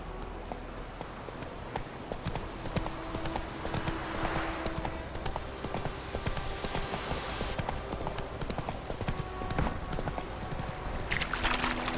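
Roach the horse's hooves clop along in The Witcher 3, a steady rhythmic run of hoofbeats that continues for the whole stretch, with no talking heard.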